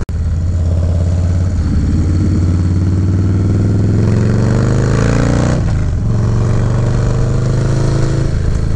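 A Harley-Davidson motorcycle ridden along rural North Carolina back roads, its steady engine note close and loud throughout, rising as it accelerates through the gears with a brief dip mid-ride as it shifts.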